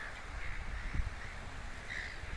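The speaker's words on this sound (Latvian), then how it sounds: "Šodien īpaši putni ir skaļi" Crows cawing loudly at the seaside, a steady chorus of harsh calls with one stronger caw standing out, over a constant background of surf and wind.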